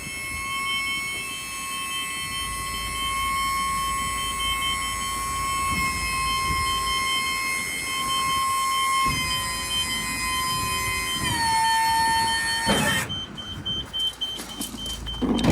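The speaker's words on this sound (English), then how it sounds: "the reason why it is beeping at me is because I do of course have the engine on" A 2022 Ford Transit tipper with its engine running sounds steady electronic warning tones while the body tips, a continuous high beeping over engine hum, ending in a brief clunk and motor whir near the end.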